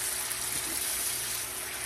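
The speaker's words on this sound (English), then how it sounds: "I'm going to take some of the broth and add to this." Broth being poured into a creamy chicken dumpling soup, a short, steady, close liquid pour with a soft splashing wash.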